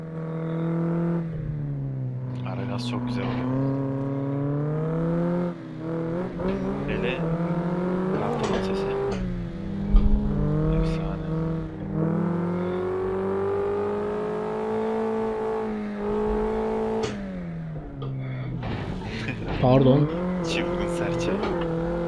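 Tofaş car engines in a racing video game played on a Logitech G29 wheel rev and whine up and down in pitch on winding mountain roads, with gear shifts and brief tire squeals, loud and continuous.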